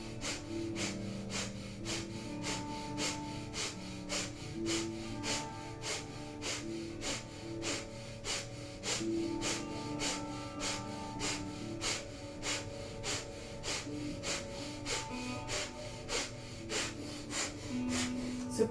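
Rapid, steady nasal panting breaths from breath of fire during a Kundalini yoga practice, repeating in an even fast rhythm for the full stretch over soft background music.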